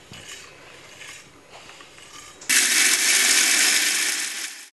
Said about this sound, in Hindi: मिक्सर ग्राइंडर में ये भुने हुए सूखे मसाले को हम पीस लेंगे।